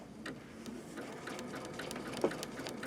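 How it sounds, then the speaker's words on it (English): A sewing machine runs slowly, zigzag stitching yarn onto fabric being turned in a circle for a couched pillow, giving a soft, steady mechanical whir with light ticking, close and quiet, with no voices. "And let's just start stitching."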